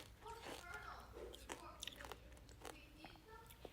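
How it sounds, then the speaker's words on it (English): Close, crunchy chewing and munching on food, with repeated bites and mouth sounds over a low background hum, no clear talk. "Don't tell me what I'm munching on."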